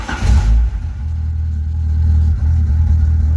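An Opel Calibra converted to rear-wheel drive, with a suspected fault, revving hard at the start and then settling into a loud, steady low engine drone close by, with no talk.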